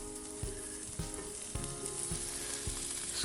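Smoked sausage sizzles steadily on a Lodge cast iron griddle alongside onions and butter, a dense continuous frying hiss with a few soft knocks from a spatula every half second or so, close and alone.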